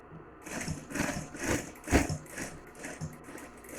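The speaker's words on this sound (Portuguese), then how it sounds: "nós vamos passar uma costura aqui" A sewing machine running short repeated bursts of stitching along a seam on test fabric, a rhythmic mechanical chatter that stops and starts about every half second, close and fairly clear.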